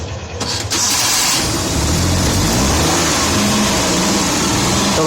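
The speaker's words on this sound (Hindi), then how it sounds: "हमारी जो गाड़ी है उसकी बैटरी बूस्ट अप हो गई थी और चालू भी हो गई है" A car engine cranks and catches after its battery has been boosted without jumper cables or a charger, then settles into a loud, steady run with the throttle held high, close by and alone.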